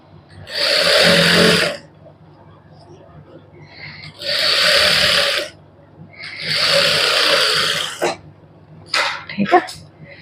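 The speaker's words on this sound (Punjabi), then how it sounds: "ਹੁਣ ਇਧਰਲੀ ਸਾਈਡ ਤੇ ਸਲਾਈ ਲਾ ਦਾਂਗੇ" Sewing machine stitching a seam on a lace-trimmed suit, running in three loud bursts of about a second or two each, followed by a few short clicks and handling noises.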